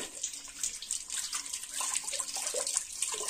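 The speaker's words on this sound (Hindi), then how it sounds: "थोड़ा सा उसको पानी से धो लेती हूँ पहले" Tap water splashes and pours unevenly while coriander leaves are washed in an outdoor village courtyard, with close, fluctuating gushing and spattering throughout.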